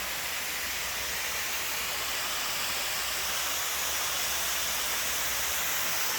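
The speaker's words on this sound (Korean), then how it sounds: "120도에서 살균을 했기 때문에 여기 나오는 증기에 손을 잘못대면 손이 어, 화상을 입습니다" Steam vents from a mushroom liquid-medium sterilizer after sterilizing at 120°C, a steady, loud, broadband hiss that holds constant throughout with no talking.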